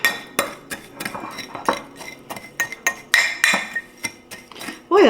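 A utensil mixes squash au gratin ingredients with butter in a dish, making a steady series of sharp clinks and scrapes against the bowl, close and fairly loud, with no talking.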